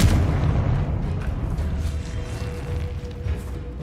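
A Confringo fire spell explodes in Hogwarts Legacy with a deep booming burst at the start, followed by a low rumbling decay and faint background game sounds, with no voices.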